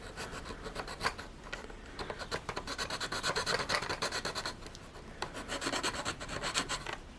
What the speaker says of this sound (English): Get a file,